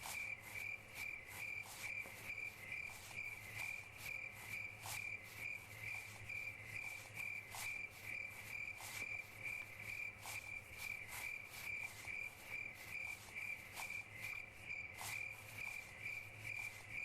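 Crickets chirp loudly and steadily in a shrill, pulsing chorus, with sharp clicks and a low hum underneath.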